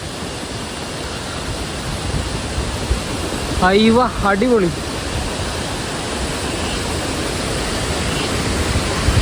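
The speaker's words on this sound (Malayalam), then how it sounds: "അങ്ങനെ ഞങ്ങൾ തുഷാരഗിരി വെള്ളച്ചാട്ടത്തിൽ എത്തിയിരിക്കുകയാണ്" Thusharagiri waterfall in the rain gives a loud, continuous rushing roar of falling and splashing water close by, with a brief excited voice exclaiming over it.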